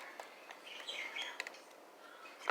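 Pet birds chirp in quick, bright little tweets scattered through the moment, fairly close and soft over a quiet room background.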